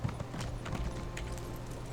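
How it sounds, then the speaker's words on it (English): Horse hooves clip-clop at a steady trot along a road in the Elder Scrolls Online game world of western Skyrim, a soft continuous patter under a low ambient bed with no voices. "travel by horse so we can kind of explore Skyrim a little bit more"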